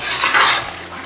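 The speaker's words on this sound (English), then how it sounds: "So our egusi has been boiling for about 5 minutes now" Nigerian egusi soup bubbles steadily in a pot after about five minutes on the heat, giving a loud, close, continuous hiss and simmer with no voices.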